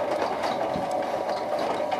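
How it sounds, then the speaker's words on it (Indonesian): A homemade spiral dough mixer driven by a salvaged washing machine motor runs with a steady mechanical whir and rhythmic rattling clatter from the spinning hook, heard close and continuous. "Inilah demo mixer spiral rakitan yang sudah berhasil dibuat. Sudah diberi mesin, yaitu dari dinamo mesin cuci."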